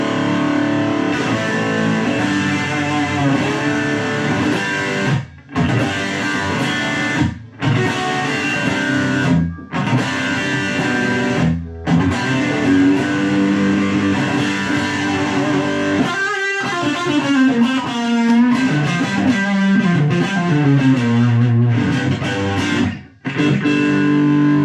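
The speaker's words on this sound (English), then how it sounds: "as soon as you switch on that gain channel, it does get really loud" Mini guitar amp under $100 on its gain channel, distorted electric guitar playing chords and riffs continuously for about twenty-five seconds, loud and saturated with a few brief pauses between phrases.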